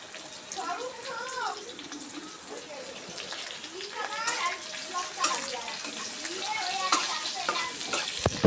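Chopped garlic and onion fried in oil in a pan, a close crackling sizzle with stirring scrapes while a person talks over it.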